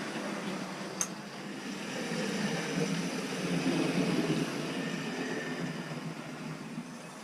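A Wrenn A4 "Golden Fleece" model locomotive runs along track with a steady rumbling rattle of wheels that swells slightly and then eases, close and continuous, with one brief sharp click near the start.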